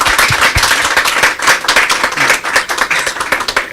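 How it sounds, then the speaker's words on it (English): A close, loud round of hand clapping from attendees at an entrepreneurship hub social gathering, sharp individual claps layered into a brisk, uneven roar for a few seconds. "So give Joanne one more big clap."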